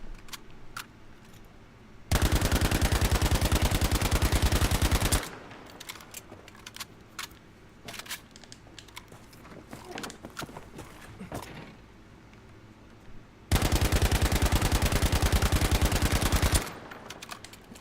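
Automatic weapon fire in Battlefield V, two sustained full-magazine bursts of rapid, dense shots, each lasting about three seconds, separated by quieter game ambience and scattered clicks.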